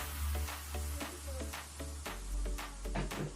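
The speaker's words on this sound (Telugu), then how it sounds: "ఇలా నూనె హీట్ అయ్యాక ఒక స్పూన్తో చిన్న బోండాల్లా వేసుకోవాలి." Spoonfuls of sweet wheat-flour bonda batter frying in hot oil give a steady, close, dense crackling sizzle with brief brighter bursts as drops are added, under a soft sustained tonal backing.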